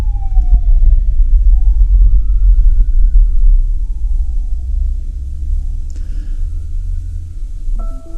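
An ambulance siren wails with a rising and falling tone over a loud, deep vehicle rumble, sweeping past and then fading, with a short new tone near the end.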